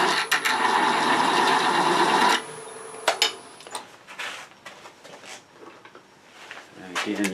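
A spiral texturing wheel cuts into wood spinning on a lathe, a loud buzzing rasp for about two seconds, then light tool clicks and handling noises.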